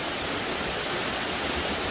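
Cheongchun Falls on a mountain trail in Korea's Yeongnam Alps roars in a dense, unbroken wash of rushing water, close and loud, with no other sounds.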